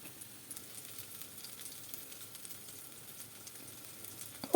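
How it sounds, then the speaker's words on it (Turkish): Cauliflower köfte patties frying in oil in a pan give off a steady, soft sizzling hiss that stays even throughout, with a small clink at the very end and no talking. "taraflarını da aynı şekilde kızartıyoruz"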